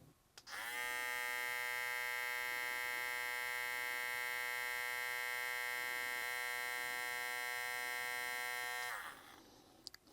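A BaByliss x Tomb 45 hair clipper is switched on at high speed and runs for about eight seconds, a steady, close, buzzing hum that stops abruptly.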